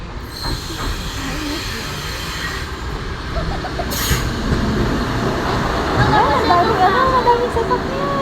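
A train in Kurashiki, Japan, rolls along the rails with a steady rumble, wheels squealing in high, wavering tones toward the end, under faint talk.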